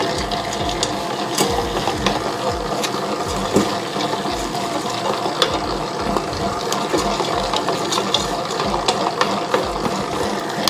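A dough mixer churns a 72% hydration pizza dough with ice and salt added, a steady mechanical whirring with rhythmic low thumps and clicks of the dough slapping, continuous and close throughout.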